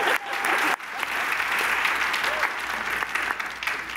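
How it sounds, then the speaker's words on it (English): An audience bursts into dense, steady applause at a youth leadership award event, a full wash of clapping that holds strongly throughout with only a brief dip early on. "Clap for that."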